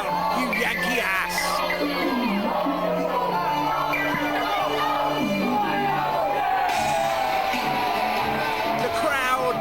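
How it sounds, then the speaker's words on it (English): Wrestling crowd at a live show chanting and cheering for a wrestler, a dense, sustained roar of shouts and whoops filling the hall, with voices talking over it throughout. "The crowd chanting and cheering for Solid Gold Scott Parker."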